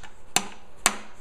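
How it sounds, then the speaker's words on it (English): Two sharp hammer blows strike a 5-in-1 tool used as a chisel to cut the tab on a 5-gallon paint or joint compound bucket lid, evenly spaced close metallic knocks with quiet between. "by hammering it."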